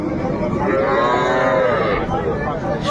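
A cross-breed cow moos loudly at a busy rural cattle market, one long drawn-out low call rising and falling over steady background crowd noise.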